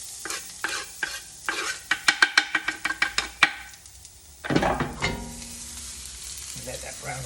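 Garlic hitting hot oil with browning seeds for a potato herb and cheese rosti: a run of sharp, rhythmic spoon clatters against the pan, then a loud burst of sizzling that settles into a steady crackle.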